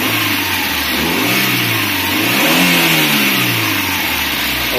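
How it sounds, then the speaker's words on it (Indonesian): Suzuki APV car engine with a broken timing belt revving up and back down, a loud nearby swell of engine pitch that rises, peaks mid-clip and falls away, with no talking. "pastiin kencang, kita gas."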